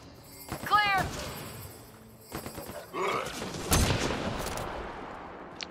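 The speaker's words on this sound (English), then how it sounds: "I don't know who's shooting him, but he's missing completely" Gunfire in the video game Mass Effect: Andromeda, scattered shots and booming impacts in short bursts, mixed with sharp electronic effects, while a player talks over the combat.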